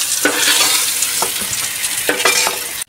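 Pointed gourd frying in a pan, seasoned with a little turmeric, gives a steady close sizzle broken by several sharp scraping stirs of a spatula.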